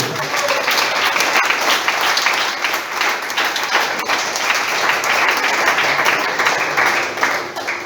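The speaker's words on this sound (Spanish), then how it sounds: "Aplausos." A congregation at a Spanish-language church service breaks into loud, sustained applause, a dense continuous roar of clapping from many people that holds steady throughout.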